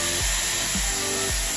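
Dyson Airwrap hair styler blowing air through hair with a brush attachment, a loud, steady, close airflow roar with brief dips in tone as the brush moves.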